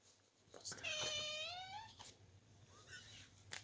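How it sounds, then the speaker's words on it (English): A single drawn-out cat meow, wavering and moderately loud, rising then falling, with faint room noise around it. "that's one of our real cats, meowing."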